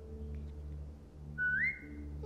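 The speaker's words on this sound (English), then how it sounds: "Now whistle and tell her to lie down." A single rising then held whistle from a character calling a dog in The Walking Dead: The Final Season game, clear over a low ambient hum.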